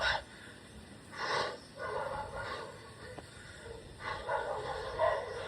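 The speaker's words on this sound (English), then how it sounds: "the dogs are attacking someone" Dogs barking in the distance, a few faint scattered barks and yips spread across several seconds over quiet outdoor background.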